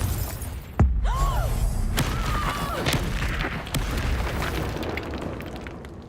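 A Confringo spell explodes in Hogwarts Legacy with a sharp booming blast, followed by crackling, rumbling combat effects and a rising magical whoosh that continues loudly to the end.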